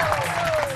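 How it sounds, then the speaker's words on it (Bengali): Studio audience at a Bengali children's comedy show claps together, a brief steady burst of applause with a voice speaking over it. "একটা হাততালি বাংলা ভিশন।"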